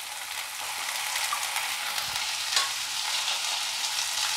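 Mixed vegetables with green chilli and chopped tomato sautéing in a pan for upma: a steady, close crackling sizzle with a few soft knocks and stirring scrapes throughout, no voices.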